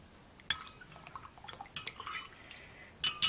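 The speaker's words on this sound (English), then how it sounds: "And you stir it up." A spoon stirs a purple borax solution in a container, making light clinks and soft liquid sloshes that come in irregular bursts and grow louder at the end.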